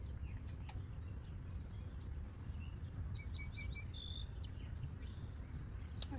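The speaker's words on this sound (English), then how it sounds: "I'm crazy about birds. They're loud." Wild birds chirp and call faintly in the high range over a steady low outdoor rumble, with short tweets and brief trills scattered across the stretch, loudest near the end.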